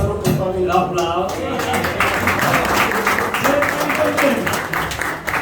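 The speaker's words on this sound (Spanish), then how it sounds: "El aplauso." An audience applauds during a festival gathering, with a dense patter of clapping building and holding steady, accompanied by voices and some singing in the background.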